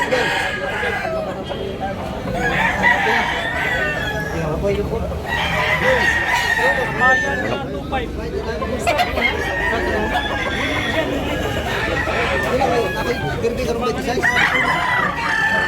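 Roosters at a Cebu poultry market crow repeatedly with long calls and clucks nearby, while people talk throughout.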